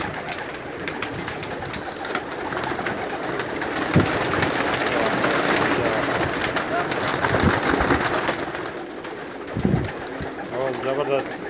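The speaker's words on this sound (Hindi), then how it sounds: "और ज़बरदस्त क्वालिटी के कबूतर हैं" Pigeons of Teddy, Rampuri and Sialkoti breeds kept in a loft in Jeddah, Saudi Arabia, coo steadily throughout, with wingbeats and rustling from the flock and someone talking now and then.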